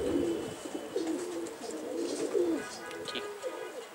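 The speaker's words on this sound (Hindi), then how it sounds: "ये सहारनपुरी जर्चा कबूतर है।" Saharanpuri and Shahjahanpuri pigeons coo softly at close range, repeated low throaty calls in a loose rhythm with faint background noise.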